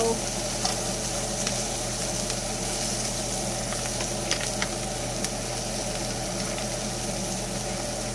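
Applewood bacon sizzles steadily in a hot pan at home, a continuous crackling hiss with a low hum underneath and no speech.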